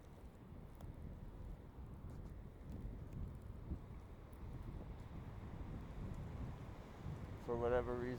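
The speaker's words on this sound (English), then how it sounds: "Windy real bad right now" Strong wind buffets a microphone outdoors in a low, uneven roar that gusts harder toward the end, where a voice briefly speaks.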